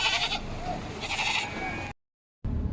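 A goat bleats loudly and repeatedly at an Eid animal market, wavering cries over a busy background with a brief silent gap before the noise resumes.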